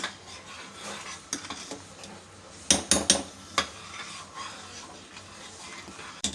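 A spoon scrapes and clinks against a pan as semolina and vegetables are stirred, in irregular bursts with a louder cluster midway over a faint background hiss.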